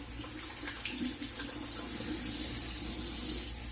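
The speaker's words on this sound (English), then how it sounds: "I'm going to go ahead and do a cold water rinse" Cold water runs steadily from a tap close by for rinsing after a shave, a continuous hiss that grows slightly louder partway through.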